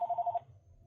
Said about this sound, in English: I am so sorry that my phone keeps ringing.